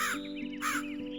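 A black crow in an animated forest story caws loudly as it flies off, with two or three harsh rasping calls in quick succession close by.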